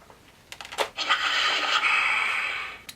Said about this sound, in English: the breathing effect that when Luke took the mask off in Jedi and his breathing started getting really hoarse